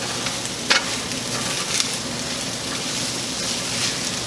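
Rice with jalapenos sizzles and fries in a pan while being stirred, a close steady crackle with a few sharper scraping clicks and no speech.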